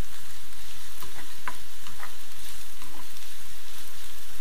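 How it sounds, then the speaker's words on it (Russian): Vegetables for borscht lightly fry in a pan, a steady close sizzle that runs throughout, with occasional stirring scrapes and no voices. "легкое обжаривание, потому что окончательный процесс приготовления этой всей пассировки будет уже"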